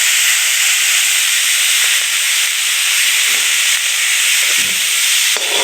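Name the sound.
grated ginger and garlic sizzling in hot oil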